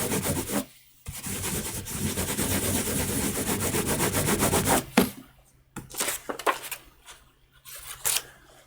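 Steady hand rubbing across a Japanese woodblock print to press in embossing, a close, continuous scraping friction that breaks off near the middle into shorter, intermittent strokes.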